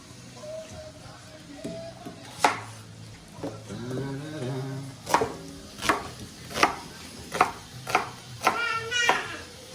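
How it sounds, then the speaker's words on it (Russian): Sharp knife chops hit a board, sparse at first and then in a steady run, with a voice and other talk underneath. "Давай это пока нарежь."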